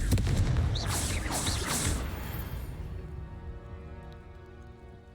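A Confringo fire spell from Hogwarts Legacy erupts in a loud, booming blast with crackling bursts over the first two seconds, then rumbles and fades into a lingering tail.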